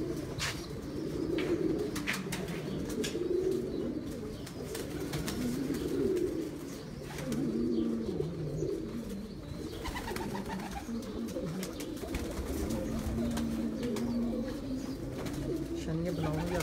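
Pigeons cooing on a rooftop loft kept by pigeon fanciers, soft repeated low coos throughout at close range, with someone talking intermittently over them.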